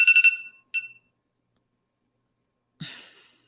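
An electronic alarm sounds in short rapid pulses of beeps, a further beep after a brief pause, then quiet, followed by a softer rising alarm tone near the end, heard alone.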